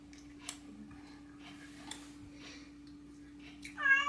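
A cat in a kitchen gives a short, faint meow near the end over a quiet room hum and soft ticking, with light background clatter.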